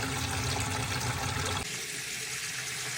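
Water gushing out of a water treatment contact tank as it is flushed, a loud steady rush that drops to a quieter, thinner flow partway through, with no talking.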